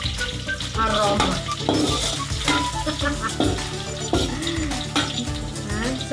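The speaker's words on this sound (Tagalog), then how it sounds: "Sunugin lang natin ng kaunti ng bawang at saka luya para mabango." Chopped garlic and ginger sizzle loudly in hot oil in a pan, with a spatula scraping and clattering as the aromatics are stirred and lightly scorched, under music.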